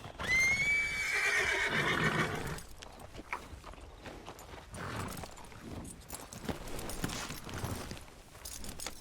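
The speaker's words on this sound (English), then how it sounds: "that horse is red as clay" A horse in the video game Red Dead Redemption 2 lets out a loud, close whinny lasting about two seconds, then quieter hoof clops and footsteps follow.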